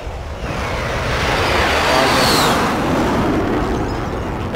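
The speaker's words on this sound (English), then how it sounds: "Helicopter above us, but just leave it alone." Helicopter passing overhead in the video game Call of Duty Warzone, a loud, broad rotor roar swelling and holding steady across the whole stretch, close and dominant with no talk over it.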